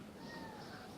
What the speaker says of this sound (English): That's my cat, ladies and gentlemen.